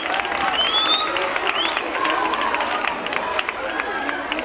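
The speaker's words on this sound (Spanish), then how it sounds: "Un aplauso para los niños de primero." Children and adults at a school Constitution Day celebration applaud first-grade pupils, a continuous busy wash of clapping mixed with crowd noise and excited children's voices, loud and close.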